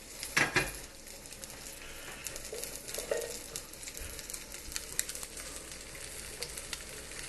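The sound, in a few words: chicken thighs sizzling in oil in a pan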